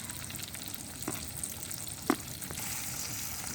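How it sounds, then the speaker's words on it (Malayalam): Crushed ginger and green chili fry quietly in a pan, a soft, low sizzle with a few small clicks and one sharper tap midway, heard alone without speech. "അത് കഴിഞ്ഞ് നമ്മൾ അതിലേക്ക് ആഡ് ചെയ്യണത് ചതച്ച് വെച്ചേക്കുന്നത് നമ്മുടെ ഇഞ്ചി ആഡ് ചെയ്യുന്നതാണ്"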